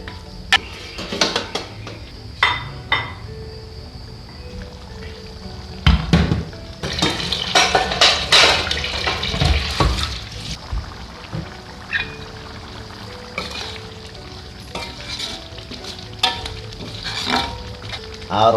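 Balinese bumbu rajang spice paste being stirred and fried in a pan, with scraping strokes, utensil clinks against the pan and a continuous sizzle, close and fairly loud in irregular bursts.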